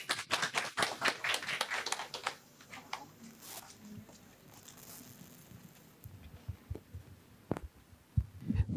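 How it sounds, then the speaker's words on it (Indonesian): A church congregation claps for the worship team at an Independence Day service: a burst of fairly loud, rapid hand claps over the first couple of seconds, then sparser scattered claps and low murmur. "Kita kasih tepuk tangan."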